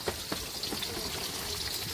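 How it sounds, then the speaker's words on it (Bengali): Steady patter of rain falling, a continuous hiss with scattered drops, fairly close and even throughout, no voices. "বৃষ্টি তো পড়েই যাচ্ছে"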